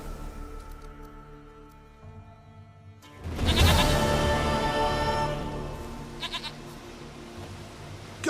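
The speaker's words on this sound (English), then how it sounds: "Goat of mine, dearest, sweetest goat." A goat in The Witcher 3: Wild Hunt bleats loudly and close. Its call bursts in after a quieter stretch of game ambience and music, then holds and slowly fades over several seconds.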